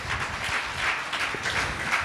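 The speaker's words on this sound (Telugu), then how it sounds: "చప్పట్లు కొట్టండి ఒకసారి" Members of a church congregation in Nalgonda clap together during a sermon, producing steady, dense applause throughout.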